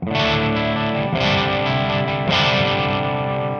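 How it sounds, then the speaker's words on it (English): A loud, continuously distorted electric guitar through a TH-U amp simulator's tube preamp distortion, holding sustained chords with mild tube-style breakup, with new strums landing at roughly one-second intervals, played alone. "from more of like a softer preamp type distortion to a harder power amp type distortion"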